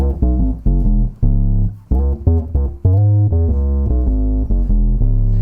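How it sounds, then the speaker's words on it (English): A 1968 Fender Jazz bass run through a compressor and a 3-Leaf octaver with only the sub-octave soloed gives a deep, thick, synth-like line of short, punchy notes and a few sustained ones, played alone. "the octave pedal is a 3-leaf octaver, and what I do is I just solo the subs"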